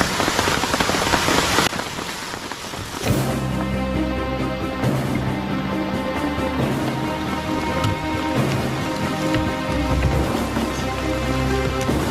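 Rain patters on a mountain hiking trail at post 3 near Sukamakmur, Bogor, a dense hiss that drops in level after a few seconds, then continues as a softer steady patter with a faint musical tone in the background.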